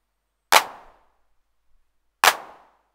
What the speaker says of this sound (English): let's move on to the hand clap. And let's listen to that on the TR8.